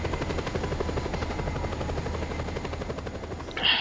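Plane engine in the video game Just Cause, a continuous rapid thrumming drone that holds steady and loud throughout, with a brief brighter burst at the very end.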